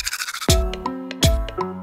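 A toothbrush scrubs in two short, loud bursts about a second apart, close and crisp, each a quick scratchy rub with a tonal jingle accompanying it.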